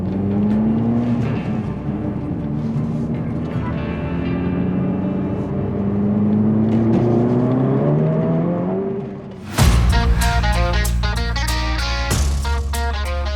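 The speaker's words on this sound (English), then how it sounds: "this car is really fun to drive" Car engine pulling hard under acceleration, a steady rising drone with sweeping pitch climbs, then a sudden louder burst of revving near the end.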